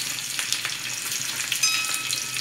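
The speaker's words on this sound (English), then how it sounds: "We'll add our shallot onions and we'll stir this until it becomes golden brown." Shallot onions frying in hot oil with curry leaves and red chilies for a fish curry give a steady, close, crackling sizzle that runs unbroken throughout, with no talking.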